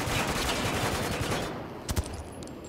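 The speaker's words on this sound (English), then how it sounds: "Under heavy fire!" Dense, rapid gunfire rattles on continuously during a poolside shootout in the video game Spec Ops: The Line, then breaks off into quieter near silence punctuated by a couple of sharp, loud single shots.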